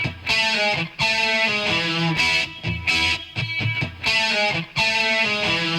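Distorted electric guitar power chords hit in short, punchy stabs with a syncopated Charleston rhythm, the pattern of chords and gaps repeating several times, loud and close with no voices.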